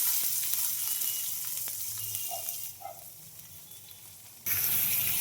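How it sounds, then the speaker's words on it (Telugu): Chopped onions and green chillies fry in hot oil with mustard and cumin seeds, a steady close sizzle that drops back briefly before flaring up loud again near the end, with a few light utensil taps. "తరిగిన ఆనియన్స్ అండ్ పచ్చిమిర్చి అయితే వేసేసుకుందాం"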